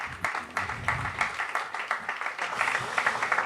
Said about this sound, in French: Donc vous pouvez l'accueillir et l'applaudir.